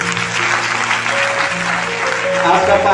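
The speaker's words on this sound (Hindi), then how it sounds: "अरे जोरदार ताली दो।" A congregation at a prayer meeting claps together, a brief burst of loud, dense hand-clapping with faint voices and a lingering tone in the room.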